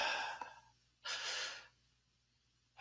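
A slow, deep exhale breath during guided meditation, soft and close, with a brief earlier breath and the start of another at the end, no talking.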